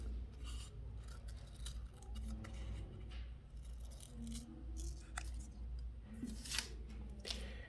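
Scissors snip through sheets of paper while circles are cut out, a soft, close run of crisp clicks and rustling slides, faint but steady throughout.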